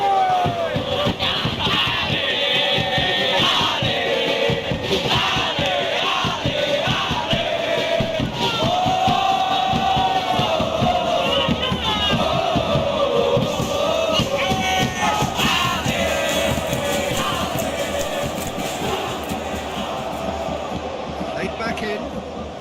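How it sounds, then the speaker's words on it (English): Stadium crowd roaring and chanting steadily throughout a simulated eFootball PES 2021 match between Persib Bandung and Dewa United, a dense continuous wash of voices with a commentator talking over it. "Crowd appreciates good football all round there."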